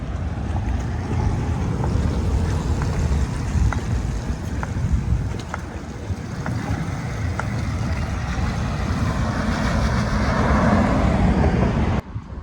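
A TELO electric mini truck pulls away outdoors, a low steady road-and-motor rumble with wind-like broadband noise that swells toward the end before a sudden cut.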